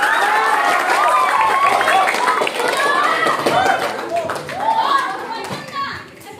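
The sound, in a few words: applause for the speaker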